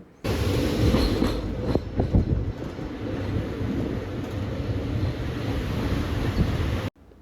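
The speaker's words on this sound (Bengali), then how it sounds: "অবশেষে প্রায় আধ ঘন্টা পর ফারাক্কা থেকে গাড়িটা ছেড়েছিল" A passenger train runs after leaving Farakka, its steady loud rumble and rattle filling the carriage with a few sharp clanks early on, holding evenly until it cuts off near the end.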